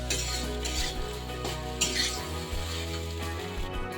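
Paneer fries in a pan with a little Kashmiri chilli powder: a steady, close sizzle runs throughout, broken by the scrape and knock of stirring.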